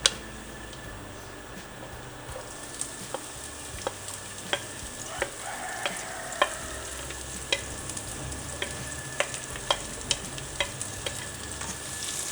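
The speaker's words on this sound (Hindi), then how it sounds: "एक साइड पे हमारी चिकन फ्राई हो रही है और दूसरी साइड पे हमारी सब्जियां फ्राई हो रही हैं" Chicken and chopped vegetables sizzle in oil in two pans at once, a soft continuous frying hiss broken by regular clicks and scrapes of stirring, heard close and alone.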